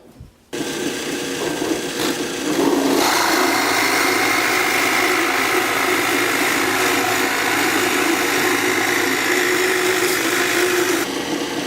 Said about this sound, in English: Here I'm just going to drill a hole for the jig for the dowel